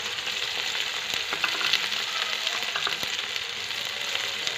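Onion and garlic fry in hot oil for a fish curry, giving a steady, dense, loud sizzle that runs throughout, with a few brief clicks of stirring and no voices.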